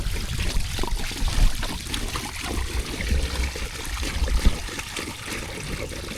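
Water mixed with roughly 5-6% white vinegar pours steadily into a U302 tractor fuel tank being cleaned, about 22 gallons in all, producing a constant close splashing trickle with slight surges and no talk.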